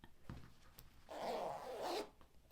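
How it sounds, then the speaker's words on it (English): The zipper on a handmade fabric handbag is pulled closed in one smooth, close-up zip lasting about a second, preceded by faint handling rustles. "Zips up really nicely."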